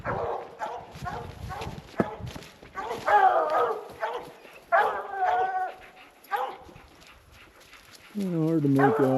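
Hunting hounds bay at a treed bear in several loud, ragged bursts of barking with whimpers in between, close by, while people talk over them.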